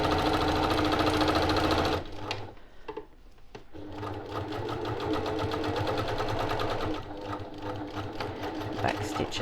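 A sewing machine stitches the seam of a boxed zipper pouch with French seams, a fast rhythmic whirring that pauses briefly near the start and then runs steadily again at close range.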